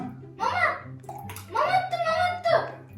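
Water splashing and trickling into a jar as it is filled by spoon while someone talks over it.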